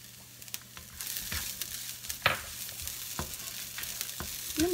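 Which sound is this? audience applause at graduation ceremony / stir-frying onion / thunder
stir-frying onion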